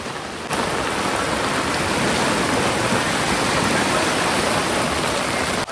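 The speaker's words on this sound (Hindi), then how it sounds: "प्रचंड बारिश तो हो रही है और इसी के साथ गंगा का जो रौद्र रूप है" Torrential rain pours at a ghat in Rishikesh beside the swollen Ganga, making a dense, unbroken roar of water that stays loud and even throughout, with no voices.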